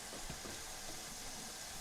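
Food sizzling and frying in a saucepan in a kitchen, a soft continuous crackle with faint stirring, low in level and heard alone.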